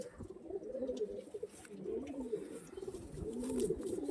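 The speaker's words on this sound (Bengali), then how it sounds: "প্রপার ওড়ানোর পায়রা আছে আর জেনারেশনের পায়রা আছে" Flying-breed pigeons kept in a loft coo in repeated soft, throaty rolling calls close by, overlapping one another against a faint background hum.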